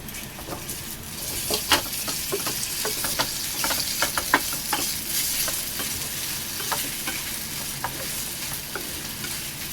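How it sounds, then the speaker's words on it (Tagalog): Minced pork sautéing in a pan, a constant hissing sizzle with frequent scraping and clicking of a spatula stirring, close and steady. "Gisag-gisa muna natin yan."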